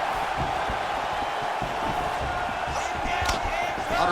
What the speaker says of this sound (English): the crowd continues to react with every passing land